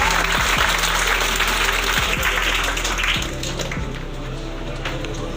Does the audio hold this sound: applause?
yes